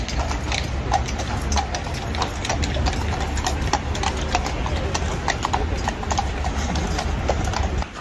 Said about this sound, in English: Ah, yes, the famous changing of the horses or whatever.